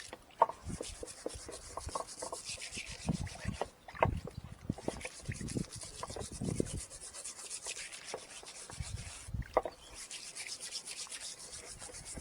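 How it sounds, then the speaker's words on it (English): Stiff wire brush scrubbing back and forth over a badly fouled surface, a run of close, rough scraping strokes with short pauses between bursts, moderately quiet and with no talking. "just give it a scrub with the wire brush"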